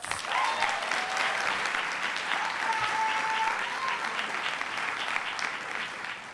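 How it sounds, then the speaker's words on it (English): An audience at the Donning of the Kente 2017 graduation ceremony gives sustained, even applause for the graduates. The clapping is full, fairly close and continuous, with faint tonal sounds briefly showing above it. "Please give a round of applause for our graduates."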